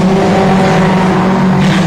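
A race car roars loudly through a turn at I-37 Speedway, its engine note sustained and tonal with tire noise mixed in, close and dominant.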